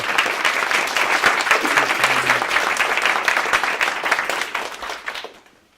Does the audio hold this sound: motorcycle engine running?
no